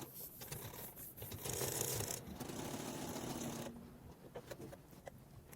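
A manual sewing machine stitches the shoulder seam of a criss-cross bubu top in organdy, giving a steady close mechanical whirring and rattling run that speeds up and then eases off, with no one talking.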